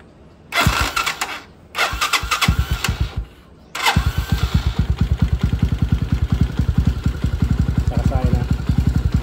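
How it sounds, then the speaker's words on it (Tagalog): The electric starter of a Euro 150 motorcycle, fitted with a newly installed Honeywell switch, is tested. Two short cranking bursts are followed by a pause, then a longer attempt that settles into a rapid rhythmic engine chug, loud and close. "Tapos testing natin yung starter natin."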